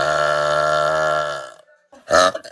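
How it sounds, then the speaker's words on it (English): One long, loud, sustained burp from a woman rumbles on for over a second, followed after a short gap by a brief second burst. "If you think you can out-burp me, let's go."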